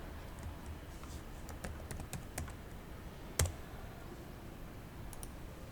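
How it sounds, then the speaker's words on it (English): Quiet, irregular keyboard typing with scattered key clicks and one sharper tap partway through, close by with no voices. "then start typing the program"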